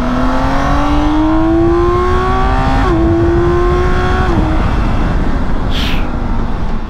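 A loud, close BMW K1600 motorcycle engine revs up through rising pitch, shifts, and climbs again, then roars on as a steady rumble.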